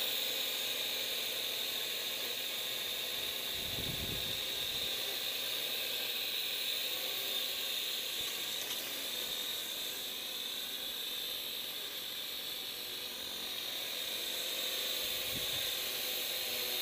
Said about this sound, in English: The wind is starting to pick up now.